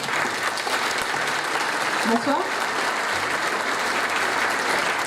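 An audience at a business awards evening claps steadily throughout, a dense, even wash of applause from a crowded hall while someone speaks briefly over it.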